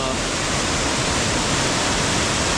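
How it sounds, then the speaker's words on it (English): A waterfall about 15 feet tall pours heavy water into a river, making a loud, constant roaring rush at close range with no pauses. "That is a fair bit of water coming down that"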